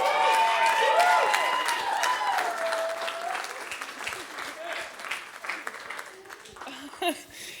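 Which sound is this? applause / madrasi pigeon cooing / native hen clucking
applause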